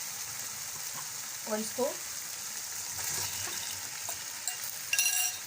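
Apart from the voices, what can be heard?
arvi (taro root) added to masala, frying and stirring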